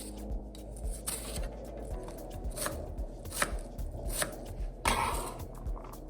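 A knife chops an eggplant on a cutting board, trimming the ends, producing a series of close, sharp, irregular taps and thuds over quiet background, with no talking.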